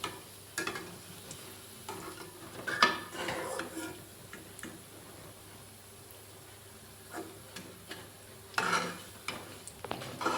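Onion manchurian frying and being stirred in a pan, a low sizzle broken by intermittent scraping and clinks of the spatula, close and fairly quiet, without speech.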